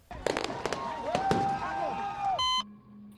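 Fireworks celebrate the capture of a fugitive. A rapid series of sharp bangs and crackling bursts rings out with whistling sweeps between them, and the sequence ends in a short run of electronic beeps.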